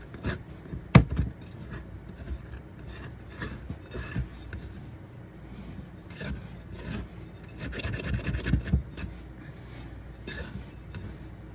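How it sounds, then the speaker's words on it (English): Sourdough dough scraped from the sides of a mixing bowl, giving soft, irregular rubbing and rasping strokes with one sharp knock near the start, close up with no talking. "now I'm gonna scrape the sides again."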